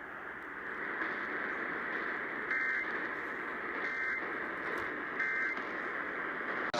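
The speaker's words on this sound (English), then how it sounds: "The following tones will conclude this test." Emergency Alert System test tones play over a radio broadcast as one steady, unbroken electronic tone that holds at even loudness for about seven seconds, with no talking.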